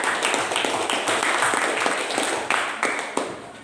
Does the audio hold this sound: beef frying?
no